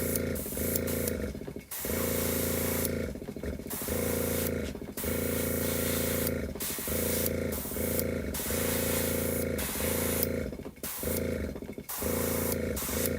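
An airbrush sprays paint onto a model figure in repeated bursts, each a steady hiss lasting a second or two, separated by short breaks as the trigger is released, close and fairly loud.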